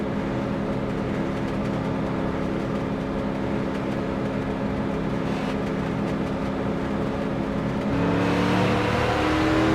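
Street stock race cars circle a Michigan oval in an XCAL Streeter Series all-star race, a steady blended engine drone at a distance that swells louder as the pack accelerates near the end, with no talking.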